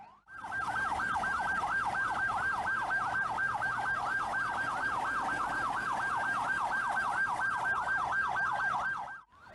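An ambulance siren wails in a steady, rapid up-and-down warble, loud and continuous, stuck in a long traffic jam on a flooded coastal highway.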